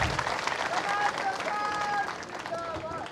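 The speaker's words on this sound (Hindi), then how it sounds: "एक बार करतल ध्वनि करके, ताली बजा करके डॉक्टर रमन सिंह का स्वागत करें" Audience at a political rally applauds, a dense wash of clapping with scattered cheers and crowd murmur, loud at first and easing slightly toward the end.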